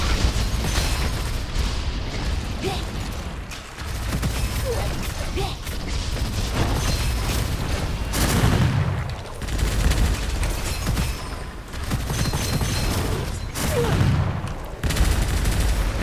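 Bursts of enemy gunfire and explosive pops in an action video game, loud and dense over a busy backdrop of mechanical game effects, recurring in waves throughout.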